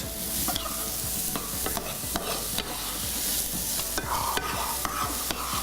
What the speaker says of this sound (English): Right, onions cooking away.